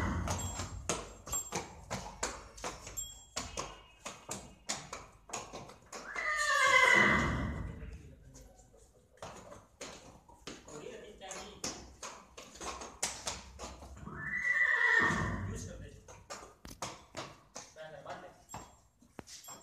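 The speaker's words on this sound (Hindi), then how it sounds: "भाई एक घोड़ी और है गाड़ी नाम की घोड़ी है इसकी हाइट है 66। ये भी अभी आ रही है दिखाई" A tall mare neighs on a horse-breeding farm in Haryana. Two long, loud whinnies come several seconds apart, set against steady clip-clop and tapping hoof sounds, with no talk.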